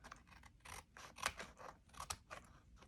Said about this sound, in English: so I can snip that off